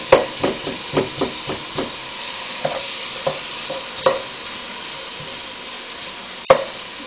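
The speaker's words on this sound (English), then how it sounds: "Okay, so I have my onion and brown sugar in there. I'm going to add my onion." Onion added to a pot with brown sugar sizzles steadily while a utensil stirs with repeated scraping clicks, dense at first and then sparser, close by and with no talk.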